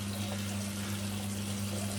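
Water runs steadily from a tap during shaving preparation, a constant close rushing wash under a low mechanical hum, with no voices.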